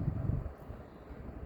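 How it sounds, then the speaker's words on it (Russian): Gusty wind during a March snowstorm at about minus one degree, a faint low rushing that swells briefly at the start and then eases. "Ну, ветер."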